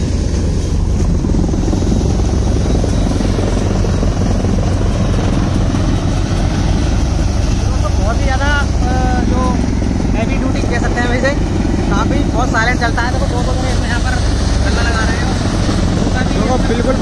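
A Sonalika DI 750 old-model cutter thresher runs steadily while driven by a tractor, a constant loud mechanical drone throughout with people talking over it.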